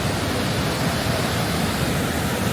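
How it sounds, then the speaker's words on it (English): A waterfall in Iceland pours steadily, giving a loud, unbroken rushing roar of falling water close by, with no voices and no change in level throughout. "This is the first tier of the waterfall."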